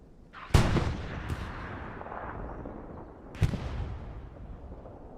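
Tank rounds fire and explode in Hell Let Loose: two sharp, loud blasts about three seconds apart, each followed by a long rumbling decay over distant battlefield background noise.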